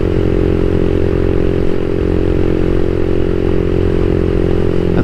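A CSC SG250 motorcycle with a MotoCult Stage 4 kit, a brand-new engine being broken in, runs with a loud, continuous engine drone and mechanical clatter close up, steady throughout with no voices.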